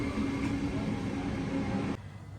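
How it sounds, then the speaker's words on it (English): A train rumbles along steadily with a low, continuous roar and faint rhythmic clatter from the cars, then the noise drops off abruptly near the end. "I'm going to hop back on the train and head back to my bus."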